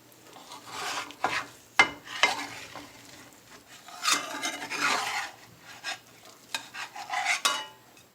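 Frittata cooking in a non-stick pan, with repeated scraping and stirring strokes of a utensil over a steady soft sizzle, rising and falling in bursts close to the pan.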